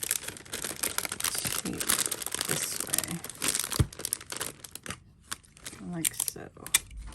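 Tape is pulled, crinkled and torn in a series of close, irregular crackling rips and rustles, with a voice speaking briefly partway through.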